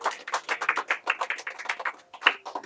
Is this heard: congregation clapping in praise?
yes